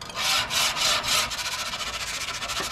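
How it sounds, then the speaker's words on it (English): A wire brush scrubs a hot grill grate on a barbecue pit in quick back-and-forth rasping strokes, several strong scrapes followed by lighter, faster rubbing, close and alone. "You want to get your grate nice and hot and then uh, give it a nice little cleaning."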